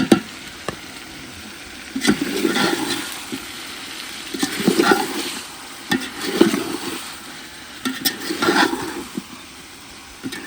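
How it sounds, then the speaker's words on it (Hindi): Beef with tomatoes and green chilies fries in a pot, and a spoon stirs it in soft repeated bursts over a low sizzle, with occasional sharp clinks of utensil on metal. "पाँच मिनट हो गए हैं गोश्त को टमाटर सब्ज़ मिर्ची वगैरह डाल के भूनते हुए।"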